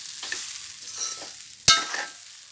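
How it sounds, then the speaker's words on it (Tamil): Soft scraping and stirring of a coconut sambal mixture in a pan with a faint sizzle, plus one sharp clink of a utensil against the pan. "எல்லாம் ஒன்றா போட்டு கிளறி கிளறிட்டுருக்கேன்"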